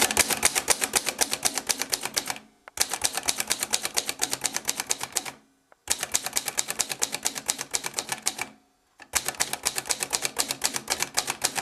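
Rapid, steady keystrokes on a 1929 Corona No. 4 manual typewriter fitted with a fresh ribbon, cutting a stencil, come in three long fast bursts separated by short pauses, close and crisp with no voices.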